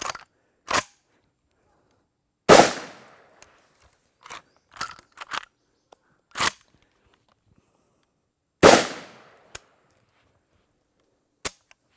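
Shots fired from a Vepr 12 shotgun with low-recoil ammo, two loud booming blasts several seconds apart among sharp clicks and clacks of the action and handling, outdoors with no talk.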